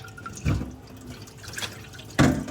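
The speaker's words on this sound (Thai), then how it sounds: "จากนั้นนะคะเราก็นำมาล้าง น้ำเย็นนะคะ" Cold water runs and splashes as vegetables are rinsed for Korean side dishes, with two louder splashing bursts over a steady low trickle, close and moderately loud.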